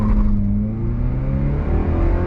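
A truck pulls away in first gear from a dead stop, its engine droning loud and close with steady harmonic tones and rising revs.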